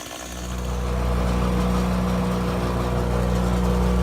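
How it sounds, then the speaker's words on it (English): Wood chipper chipping hemlock branches on a driveway: a loud engine roar that builds in the first second, then a steady, close mechanical drone with grinding texture, with no voices. "Right now I'm up in the upper driveway, chipping up the piles of branches"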